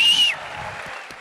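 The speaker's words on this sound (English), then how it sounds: "Give Jesus and his mother a round of applause." Brief audience applause follows the interview, a short wash of clapping with a thin whistle at the start, tapering off quickly.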